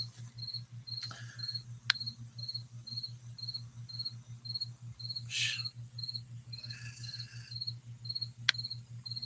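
Crickets chirp in a steady, rapid pulsing trill, faint and continuous over a low constant hum, with a few brief clicks scattered through it.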